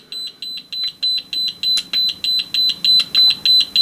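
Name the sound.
no-flow alarm beeping on Thermaltake Pacific TF2 flow and temperature display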